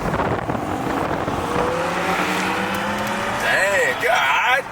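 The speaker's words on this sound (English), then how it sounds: "Can you rev your car for me?" Supercar engine revving at a car meet, a rising and falling engine tone that climbs sharply near the end, heard outdoors with wind buffeting the microphone and people talking nearby.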